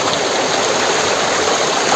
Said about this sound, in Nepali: यो पानी अरे उहाँ माथिबाट आएको रहेछ नि त पानी यहाँनिर